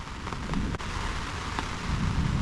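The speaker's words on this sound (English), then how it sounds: "Starting to rain." Continuous rain falling nearby on a canvas awning outdoors, a dense steady patter and hiss with occasional sharper drops, no voices.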